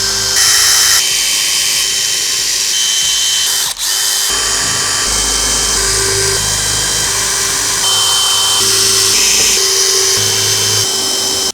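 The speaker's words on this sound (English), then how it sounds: "We're going to clear these out with a drill bit and make sure everything lines up." A power drill runs almost continuously, clearing pre-drilled mounting holes in the B-pillar of a Ford Transit cargo van, with a steady close whine, a brief pause near the middle and shifts in pitch as the bit bites.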